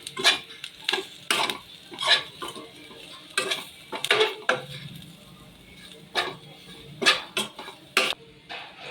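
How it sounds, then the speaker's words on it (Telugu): A spoon stirs chili powder and salt through fried Maggi noodles in a metal pan, giving repeated scraping clinks and knocks in an uneven rhythm, close and fairly loud, with a light sizzle underneath. "కారము, ఉప్పు వేసుకోవాలి. మంచిగా కలుపుకోవాలి."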